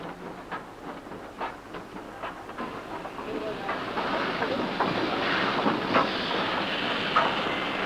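A train runs along a railway with rhythmic clickety-clack wheel beats that build into a louder, steady rumble and hiss, heard from nearby.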